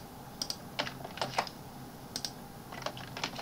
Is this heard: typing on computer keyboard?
yes